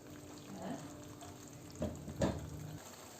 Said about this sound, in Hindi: ये मसाला अच्छी तरह से भुन चुका है और फिश भी उसके अंदर भुन चुकी है।